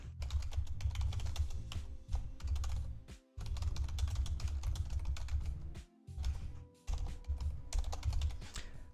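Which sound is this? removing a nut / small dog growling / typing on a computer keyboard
typing on a computer keyboard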